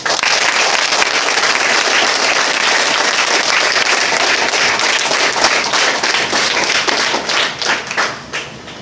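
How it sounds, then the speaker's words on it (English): An audience at an IAS coaching seminar in Alappuzha bursts into loud, sustained clapping that fills the room, then thins into scattered individual claps as it winds down. "Give him a big clap."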